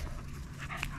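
A dog pants close by with quick, steady breaths that run without a break for about a second. Low background rumble sits underneath, and no one speaks.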